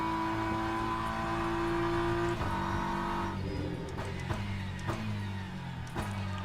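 A BMW race car engine in the Le Mans Ultimate racing simulator at Sebring drones with a strong, steady tone, then drops pitch with a few sharp gear-change dips and re-revs as it pulls away.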